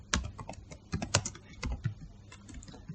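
Typing a title on a computer keyboard, with close, crisp key taps in short uneven bursts and small pauses between them, with no voices over it.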